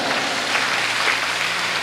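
Audience applause at a Hindi poetry recital, a steady, dense wash of many hands clapping close and loud throughout, with no voices over it.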